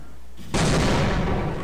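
Satchel charges detonating in the Half-Life game set off a sudden, loud, broad blast that rumbles on after a quiet moment, with no voice over it.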